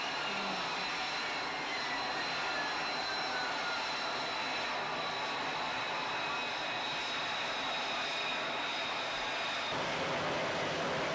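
A loud, steady F-35B stealth fighter jet engine roar with a high whine runs continuously throughout, close and powerful, with faint voices underneath.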